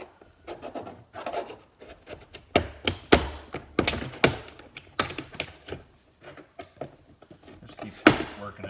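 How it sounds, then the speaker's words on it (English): Plastic trim tool prying and popping retaining clips off the rear door panel of a 2015-2021 Chevrolet Colorado, close-up sharp snaps and thunks scattered among scraping and rubbing sounds. "Just keep working it and popping them off."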